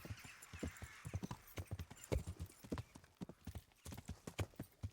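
Hooves of a horse clip-clop in a quick galloping rhythm across the ground in the video game Kingdom Come: Deliverance, loud and close throughout, with no speech over the hoofbeats.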